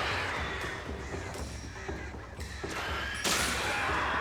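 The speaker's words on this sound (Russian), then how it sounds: "Опять вороны." Crows caw harshly in the Alan Wake video game, several rough calls overlapping within a dense, noisy game soundscape with a sudden loud burst near the end.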